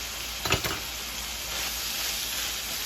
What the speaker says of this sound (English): just cook this until our veggies are tender and our meat is cooked off